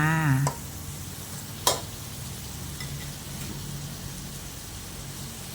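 Sweet and sour cucumber with shrimp is stir-fried in a pan, giving a steady close sizzle broken by a few sharp clacks of a spatula against the pan.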